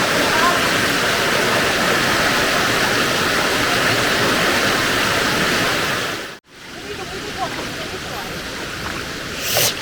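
Silaphet waterfall pours in a steady, loud, broadband roar that fills the scene, with a brief dropout partway through before the rushing water resumes.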